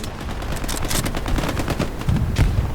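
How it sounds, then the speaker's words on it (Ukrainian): Hell Let Loose combat with rapid bursts of gunfire and a heavy RPG launch, loud, close and chaotic. "Хтось RPG стріляє."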